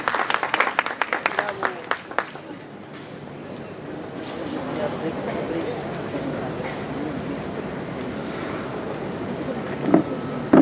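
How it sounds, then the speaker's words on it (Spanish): Audience applauds a speaker at the end of a talk, opening with a burst of crisp individual claps that melts into a dense, steady wash of clapping under murmuring voices. "fuerte aplauso para el profesor"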